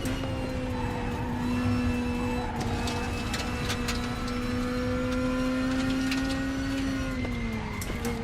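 Super touring race car lapping Brands Hatch in the RaceRoom racing game, a steady sustained engine drone with a held pitch that dips near the end, plus scattered clicks and tyre noise throughout.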